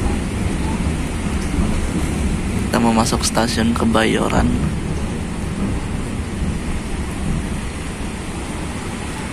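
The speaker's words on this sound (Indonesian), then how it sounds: "Dan hujan pun turun teman-teman." Heavy rain roars against an Indonesian passenger train nearing Kebayoran station on the Cilegon to Pasar Senen run, a steady dense wash with low rumble throughout, while someone talks briefly in the middle.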